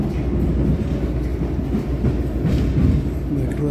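A metro train runs toward Kimball station in Chicago with a loud, steady rumble and rhythmic wheel clatter from inside the car, no talking.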